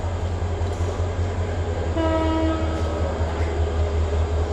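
A passenger train for the Dhaka to Sylhet line stands at a station with its locomotive at the front, giving off a steady, loud low rumble, while a sustained horn-like tone rises over it midway.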